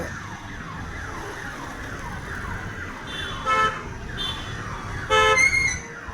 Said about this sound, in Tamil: பாருங்கள் என்ன டிராஃபிக்கு.